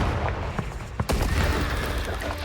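A Confringo blasting spell in Hogwarts Legacy goes off as a sharp explosive burst amid a busy, loud combat din with rumbling impacts.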